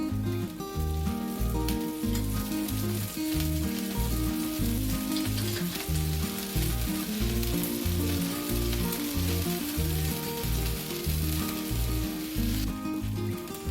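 Sago (javvarisi) dosa frying on a hot pan over high flame, with oil poured around it, makes a loud, continuous close sizzle with a regular low pulsing underneath throughout.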